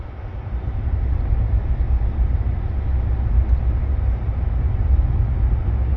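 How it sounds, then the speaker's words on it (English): Train passing nearby, a steady, loud low rumble that swells in the first second and then holds evenly, with no talking. "There's a train up there and it's gone."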